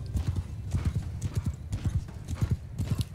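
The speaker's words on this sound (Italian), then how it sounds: "Con la cavalleria adesso io direi di attaccare questi arcieri a cavallo." Cavalry horses galloping in the Mount & Blade Bannerlord game, a loud, close, continuous clatter of rhythmic hoofbeats with no talking.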